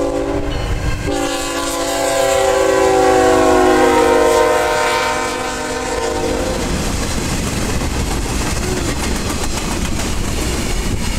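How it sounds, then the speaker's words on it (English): A Norfolk Southern high and wide freight train passing at Rock Hill, South Carolina, on the R-Line: a loud, sustained chordal horn blast, then the rumble and clatter of cars rolling by close. "this is an NS high and wide train heading northbound on the NSR line"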